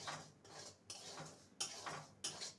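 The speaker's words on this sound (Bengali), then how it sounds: "সুজিটা নেড়ে নেব হালকা নেড়ে নেব" Semolina stirred lightly in a pan, a quiet series of soft scraping strokes with a few sharper spoon knocks against the metal, roughly every half second, no voices.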